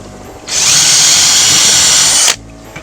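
A power drill bores a pilot hole into metal while a homemade grappling claw is built, whining loudly and steadily for about two seconds before stopping abruptly.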